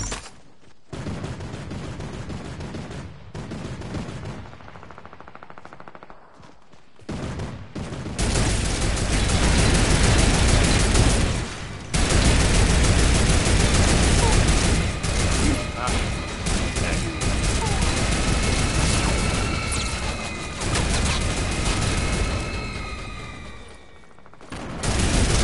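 Sustained gunfire and turret shooting in an online video game, dense rattling bursts that swell and drop across the stretch with brief quiet gaps, while players talk over the action.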